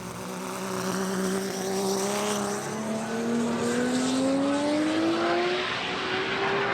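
A Haltech ECU-controlled drag race car, likely a Lexus SC300 at the Haltech World Cup Finals, revs hard at full throttle with a loud, steady engine tone rising in pitch as it pulls through the run.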